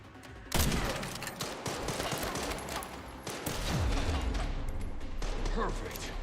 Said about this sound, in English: They're actually doing suppressing fire